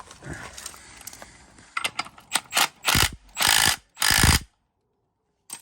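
Ratchet wrench tightening a top mount on a Renault Twingo RS133, heard as several loud, close bursts of rapid clicking that grow longer toward the end, followed by a short silence.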